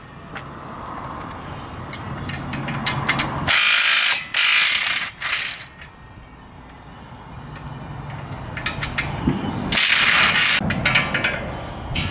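Milwaukee power tool driving during a hydraulic jack retrofit on a trailer, loud buzzing whirring bursts of a few seconds each over quieter workshop background, no speech.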